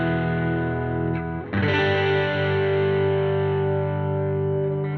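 A held clean electric guitar chord rings out through an Empress Echosystem or Reverb pedal, then is re-struck and sustains smoothly with a lush, lingering reverb tail, alone and fairly loud.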